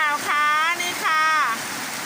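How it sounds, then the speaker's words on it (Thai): Heavy rain pours steadily at a farmhouse in Wang Phayom, a loud continuous hiss that runs beneath a voice. "ฝนตกหนักมากเลยนะคะ"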